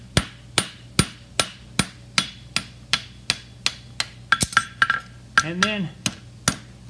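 Steady hammer blows on a horseshoe being forged with a toe clip, about a dozen sharp ringing strikes at a regular rhythm, with a brief spoken word, a short scraping sound and a tonal ring between the later blows.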